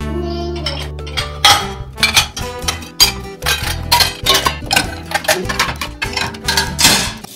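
Steel dishes and spoons clatter and clink as they are loaded one after another into a dishwasher rack in an Indian kitchen: a dense, close, loud run of metallic knocks and rings with no talking.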